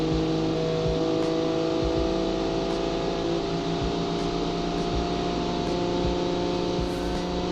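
A 1956 Gasmea with an inline-six engine, in a car-building and racing game on the Road Atlanta circuit, holds a loud, steady, close engine drone that keeps running without a break. No one speaks.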